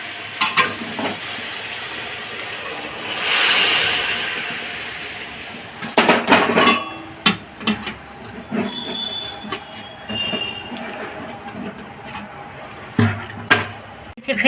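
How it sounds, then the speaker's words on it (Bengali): Hot water is poured into simmering navratna dal in a pot, a rushing pour swelling near the start, followed by clattering and stirring sounds of utensils at close range; little or no talking. "এবার পাশে গ্যাসে যে গরম জল করেছি সেই গরম জলটা দিয়ে দেবো।"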